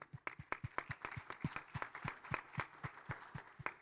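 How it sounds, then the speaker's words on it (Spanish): An audience claps at a panel event on carbon markets and sustainable finance. The claps are distinct and fairly evenly spaced, forming a steady, rhythmic applause that lasts the whole stretch at moderate loudness. "Un aplauso para él también."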